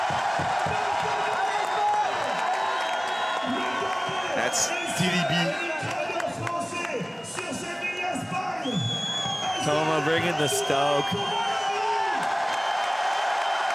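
Crowd at the FISE Montpellier 2024 BMX freestyle spine ramp event cheering and whooping steadily throughout, with English and French commentators talking over it.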